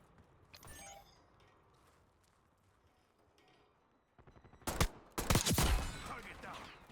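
Shots from a KSV rifle in a shooter video game crack out as a few loud, close reports near the end, after a brief earlier burst and a quiet lull.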